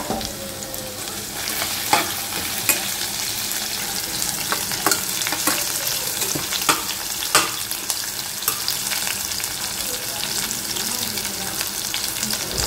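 Thinly sliced onions fry with biryani spices and a pinch of salt, making a continuous crackling sizzle punctuated by sharp clicks and scrapes of stirring.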